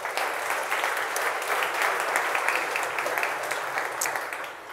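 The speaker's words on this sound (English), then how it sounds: "Please give him a round of applause." A business event audience in the UK gives a round of applause to a volunteer on stage, the sustained clapping of many hands staying full and steady before tapering slightly at the close.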